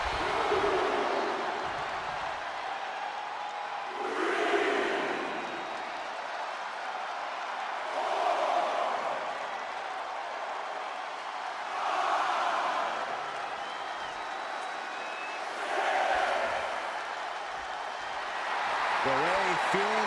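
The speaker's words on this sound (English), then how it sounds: "feeling the energy from this crowd" A simulated arena crowd in the wrestling video game WWE 2K24 roars and cheers in swelling waves every few seconds, a broad distant din beneath steady commentary talk.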